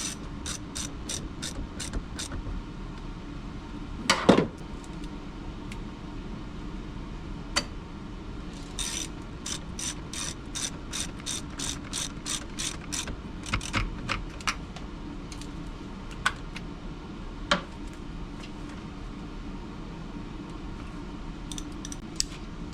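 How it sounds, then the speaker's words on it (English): A ratchet tightens the positive battery terminal on a BMW M6 in quick runs of fine clicking, broken by brief pauses and a few sharper metallic knocks, close and moderately quiet. "I'm going to tighten down the positive terminal"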